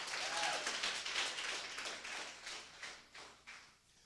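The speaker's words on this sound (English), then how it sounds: "Give the Lord a hand clap of praise this morning." Congregation in a church clapping hands in praise, a dense burst of many hands that swells early and then gradually thins and fades over a few seconds.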